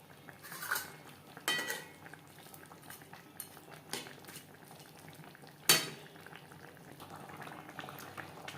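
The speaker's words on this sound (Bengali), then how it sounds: "গ্রেভির সাথে মাছ আরও 3-4 মিনিট রান্না করব।" Khoira fish simmering in gravy with eggplant in a pot, a steady close bubbling with occasional clinks and scrapes of a utensil against the pan.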